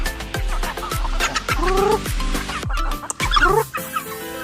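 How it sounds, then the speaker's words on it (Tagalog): Native chickens cluck close by in short, busy bursts over a steady low thumping in the background, with a few louder squawks toward the end. "Ngayon guys is bisitahin ko po yung aking mga native na manok dito."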